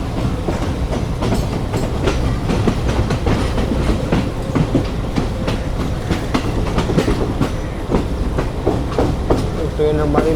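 The Pak Business Express rolls along the main line, with steady, close clickety-clack from the wheels and a continuous rumble throughout, heard from aboard and under faint talk.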